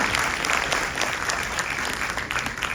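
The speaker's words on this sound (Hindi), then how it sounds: "तो ज़ोरदार तालियां हो जाएं" Loud, dense applause from a theatre audience at a Ramayan stage performance, steady and sustained throughout with no voices over it.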